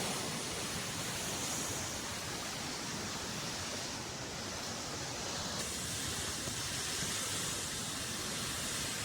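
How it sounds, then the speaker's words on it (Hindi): A waterfall in a mountain valley rushes continuously, a dense, even hiss of falling water heard faintly from a distance without any talking. "आप लोग एंजॉय कीजिए इस खूबसूरत से वाटरफॉल को"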